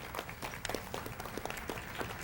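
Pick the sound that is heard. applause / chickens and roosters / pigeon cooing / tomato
applause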